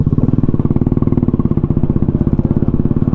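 An old, modified Royal Enfield Bullet motorcycle engine thumps loudly and steadily at a rhythmic idle-like pace while being ridden, heard close and continuous with no talk.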